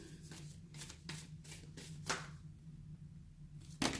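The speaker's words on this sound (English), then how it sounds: "Maybe I need to shuffle some more." Repeated bursts of playing cards being shuffled, crisp riffling rustles coming in quick groups, close by and fairly quiet, ending with one sharper riffle.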